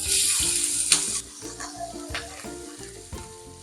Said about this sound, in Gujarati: રાઈને આપણે થોડી વાર ફૂટવા દઈશું.